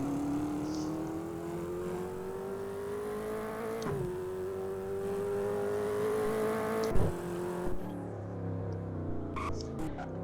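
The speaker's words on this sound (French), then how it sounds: "ça pousse forcément, le petit V8 Audi, c'est pas mal" An Audi V8 car in a racing video game accelerates with a steady, loud engine drone that climbs in pitch, drops briefly at a gear shift, climbs again, then gives way to a quieter idle with a few short clicks near the end.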